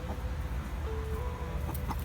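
A chicken on an urban homestead clucks briefly over steady background noise, with no talking.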